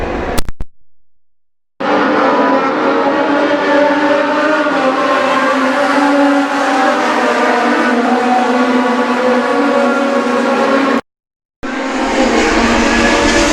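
Legend race cars roar past on the track at New Hampshire Motor Speedway, a loud sustained pack of engines with a steady droning whine that cuts out briefly twice, with no talking.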